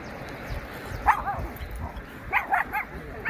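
A small dog on a public street in Japan gives several sharp barks and yips at mid distance amid street noise, with faint voices in the background.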